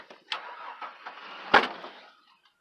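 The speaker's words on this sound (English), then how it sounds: "we have it turning over quicker than before, starting some starter fluid into the air intake" An old, cheap car engine cranks over with starter fluid sprayed into the air intake, building to a sharp burst around the middle as it catches briefly before fading out, heard fairly close with no talk.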